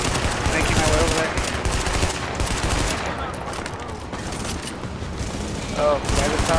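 Rapid bursts of gunfire from a first-person shooter video game, loud and sustained across the whole stretch with repeated volleys, and a player's voice talking over it.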